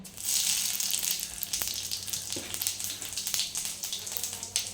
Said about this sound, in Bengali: এবার এই একই তেলে দিয়ে দেবো একটু রাঁধুনি আর একটু সাদা জিরা